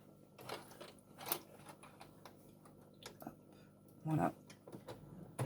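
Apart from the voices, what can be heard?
sewing machine stitching a wipe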